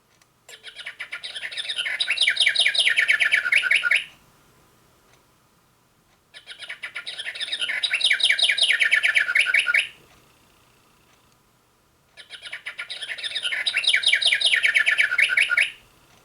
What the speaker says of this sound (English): Is the house wren going to sing 4 times?